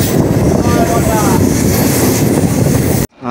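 A Howrah Chord line local train runs along the rails, a loud steady rumble with rattling wheels and wind noise heard from aboard, cutting off abruptly at the end.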